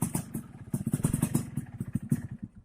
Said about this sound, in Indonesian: Ini lagi motor 2 tak.